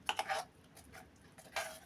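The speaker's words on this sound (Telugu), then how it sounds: "ఇప్పుడు మనం ముందే వేసి పెట్టుకున్న తాలింపులో వేసుకొని కలుపుకుందామండి" Mashed tomato chutney being stirred into a tempering in a pan, heard as faint, scattered scrapes and light clinks of a spoon against the metal, a few soft strokes spaced apart.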